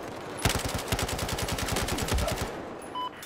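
Rapid bursts of automatic gunfire in Battlefield 4 rattle loudly for about two seconds, a dense string of sharp cracks hitting the player, then cut off into quiet game ambience.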